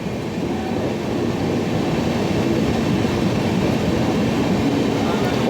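The Padmavat Express, hauled by a WAP5 electric locomotive, rolls steadily around a curve, a continuous heavy rumble of wheels and coaches heard from on board, loud and even throughout, with someone speaking over it.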